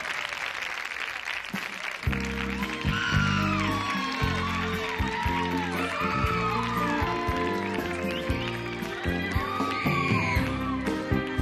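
Studio audience applause and cheering for a singer on a TV music show, a loud dense wash of clapping and whoops that swells at once and holds steady, with music starting underneath.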